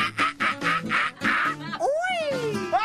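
A voice imitates a helmeted guineafowl call: a run of short rhythmic clucks, then a long rising-and-falling squawk and another begins, all close and loud.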